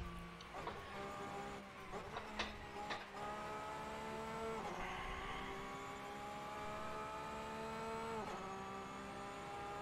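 Race cars in Assetto Corsa with the SOL mod drone steadily with engine tones that climb and drop through gear changes, a continuous racing engine sound held at even level throughout.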